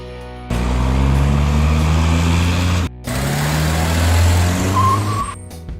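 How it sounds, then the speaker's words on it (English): A mid-size car's engine drones close and loud in two sustained runs with a brief cut between them, its pitch shifting as it revs. A short tonal note comes near the end, with no voices. "Mid-size car."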